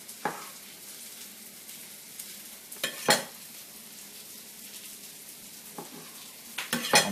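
Butter sizzling softly in a pan while pork and avocado cook, a steady quiet fry broken by several sharp clinks and scrapes of a utensil against the pan, no talking.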